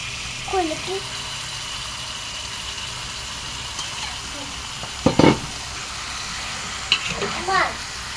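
Chicken meat and liver sizzle steadily in a pan as the pieces go in, with a few louder stirring scrapes midway and brief children's and adult voices over the frying.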